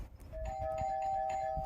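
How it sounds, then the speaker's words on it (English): A mechanical doorbell rings once indoors with a clear, sustained chime tone, fairly quiet against faint room noise, no voices. "We have a mechanical doorbell, and I know my doorbell works because I'm going to hear it right now."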